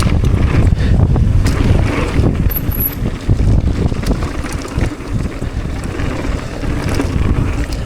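A strong headwind buffets the microphone on an outdoor dirt motocross track, loud rough gusts rushing and roaring throughout with uneven swells and dips.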